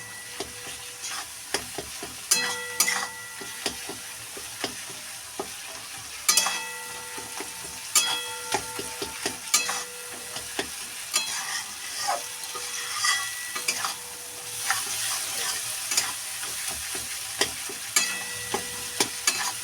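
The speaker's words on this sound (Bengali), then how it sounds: "ভালো করে এইভাবে কিন্তু মিশিয়ে নিতে হবে মশলাটা" Masala with prawn heads being stirred in a frying pan gives a continuous sizzle and fry, with frequent sharp scrapes and clinks of the spatula against the metal, loud and close.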